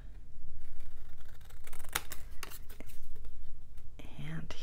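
Scissors snip through marked paper or cardstock for a Christmas mini album craft project, giving a few crisp close cuts with rustling handling in between, under near-continuous soft talk.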